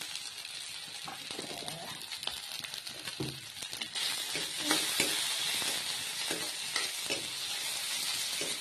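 Bhut jolokia chillies and ginger sizzle and fry steadily in a pan, a dense continuous hiss with occasional scraping stirs and clinks, fairly close with no talking.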